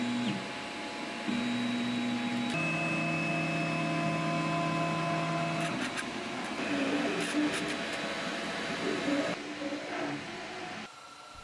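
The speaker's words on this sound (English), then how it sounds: "This is a great FDM machine that lays filament layers with pretty good speed." Mechanical whirring and droning with shifting steady tones as an FDM 3D printer's motors move, laying filament in a busy hum running continuously at close range, no voices.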